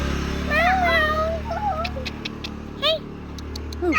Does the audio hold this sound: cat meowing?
yes